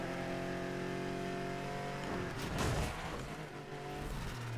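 A Porsche roars in the Need for Speed Heat racing game, its engine holding a steady loud drone that swells around the midpoint with a rushing, gritty burst before settling back into a sustained hum.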